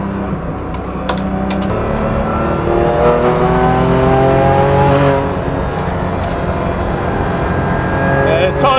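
A 510bhp BMW M2 Competition on a race track, its engine loud and steady from inside the car as the revs climb through the gears, with rising and falling engine pitch throughout.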